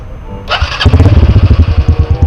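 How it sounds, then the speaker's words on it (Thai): A Honda Wave 110i motorcycle with a single modified cam and a semi-open exhaust muffler cranks and fires up close and loud, then settles into a lumpy, rhythmic putter of evenly spaced exhaust pulses. "เรามาฟัง เสียงท่อกันเลยดีกว่า"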